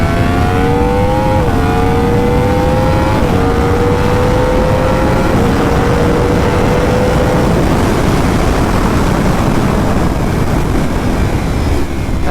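A Yamaha R1 motorcycle accelerates hard on a wet race track in the rain: a loud, close engine whine climbs through several quick gear changes, then holds under heavy wind and spray roar.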